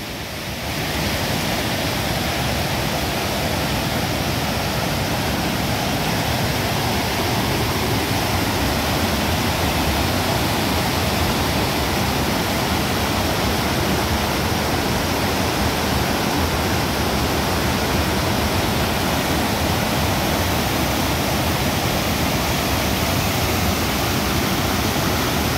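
A river rushes in a dense, constant roar that stays loud and unbroken throughout, with no voices.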